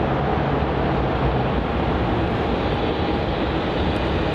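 An Airbus A321neo airliner taxiing at Melbourne Airport gives a steady, broad engine roar, continuous and fairly loud for the whole stretch, with no voices over it.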